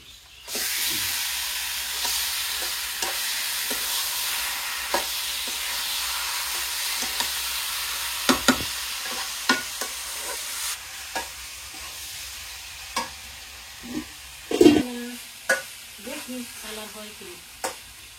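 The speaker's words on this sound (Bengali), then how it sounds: "এই যে এটার মধ্যে মশলা কষাইলাম তাই দিয়ে দিলাম" Spice paste for chicken curry stirring and frying in a pan, a steady loud sizzle and hiss broken by repeated scraping clinks of a spoon, with a voice talking briefly near the end.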